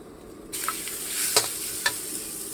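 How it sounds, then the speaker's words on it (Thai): Sliced beef is stir-fried with curry paste in a pan for a home-style Thai eggplant and beef curry. A steady, close sizzle runs throughout, with a couple of sharper scrapes and clatters from stirring, and no voices. "เราก็จะนำเนื้อนะครับผมเนื้อที่เรา หั่นไว้นะครับ ผมลงไปครับผม คลุกเคล้าลงไป รวนครับผม"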